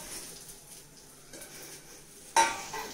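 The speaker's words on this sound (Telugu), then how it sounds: "కరివేపాకు కూడా బాగా ఫ్రై చేయాలి." Curry leaves frying with dried red chillies in a pan for curry leaf powder, a soft, even sizzle with light stirring, ending in one sharper scrape of the spatula.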